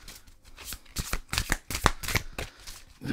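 Tarot cards riffle and snap in quick bursts as a deck is shuffled and a card drawn, close and crisp with brief pauses between flurries.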